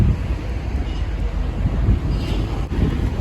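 Strong wind on a cruise ship deck at sea buffets the microphone in a continuous low roar, gusting unevenly throughout.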